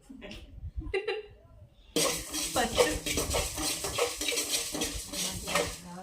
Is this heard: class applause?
no